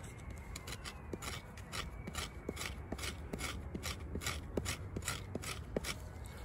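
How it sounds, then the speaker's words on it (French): A Lionsteel T5 knife blade scraping steadily across a surface, the close, dry rasping strokes repeating in a quick even rhythm over a constant background hiss, with no voices. "On va gratter ça ici."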